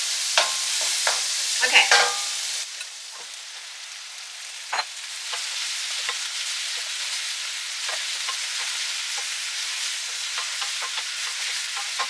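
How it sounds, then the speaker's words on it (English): A stir-fry with bok choy and spring onions sizzles steadily in a pan while a utensil scrapes and stirs, with a few sharp clatters early on and a brief spoken word. "So after we mix all together, in a minute we're gonna add our bok choy."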